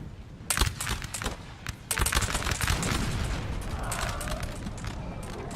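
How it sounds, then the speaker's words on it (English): Artillery firing canister shot in Napoleon Total War, a dense crackling volley of overlapping musket-like pops and rattles that swells into a sustained roar of battle noise, loud and close. "Yep, they're firing canister."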